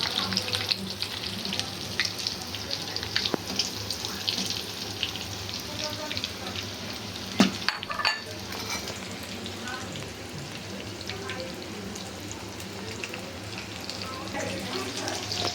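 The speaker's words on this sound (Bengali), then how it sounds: "আমার এগুলো দেখতে পাচ্ছেন খুব সুন্দর করে ভাজা হয়ে গেছে" Chicken samosas deep-fry in hot oil at home, a dense continuous sizzle and crackle with occasional sharper pops, steady throughout, with someone talking faintly.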